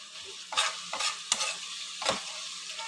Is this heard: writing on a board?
no